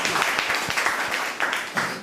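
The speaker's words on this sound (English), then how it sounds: "we need to clap for Mr. Meherban" Brief applause from an audience at a mock English-speaking conference, with a short burst of scattered claps at moderate volume.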